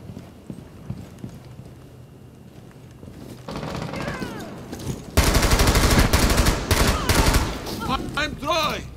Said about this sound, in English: Now there's someone firing.